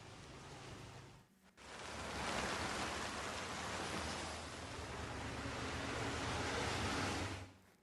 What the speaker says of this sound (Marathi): कालपासून सिंधुदुर्ग जिल्ह्यात बघितलं तर मोठ्या प्रमाणात पाऊस पडतोय